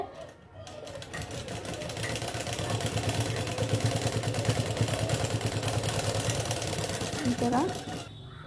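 Sewing machine stitching a sleeve onto a ready-made dress, a steady rapid mechanical whir and clatter that speeds up and runs continuously for several seconds before stopping, with a voice talking alongside.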